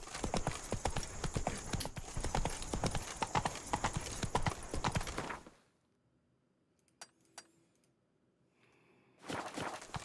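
Galloping hoofbeats of Roach, the horse in The Witcher 3: Blood and Wine, pound in a fast, loud, steady rhythm for several seconds, stop abruptly into near silence with a couple of faint knocks, then resume at the end.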